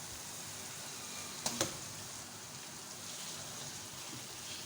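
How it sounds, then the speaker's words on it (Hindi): Minced meat sizzles in a pan as it is stirred: a constant rain-like frying hiss, with two quick spoon clacks against the pan near the start. "कीमे को अच्छे से मिक्स करेंगे"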